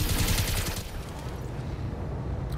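Mech weapons fire in the BattleTech game as a loud, dense volley of blasts at the start, then settle into a rumbling, fading wash of noise.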